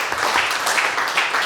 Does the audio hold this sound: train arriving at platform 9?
no